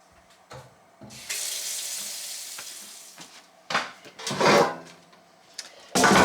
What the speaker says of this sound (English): I'm gonna go wash my hands and be right back